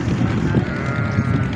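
Goats bleating at a crowded livestock market, a continuous loud jumble of animal calls and background bustle with no clear single voice.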